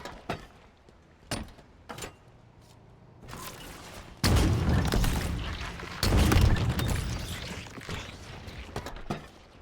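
Rocket explosions in a video game: sharp percussive cracks early on, then two loud sustained booming blasts with rumbling tails, close and heavy.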